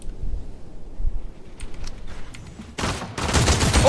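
Gunfire in the video game Fortnite, a few sharp shots early on, then two dense bursts of rapid fire toward the end, loud over faint keyboard clatter.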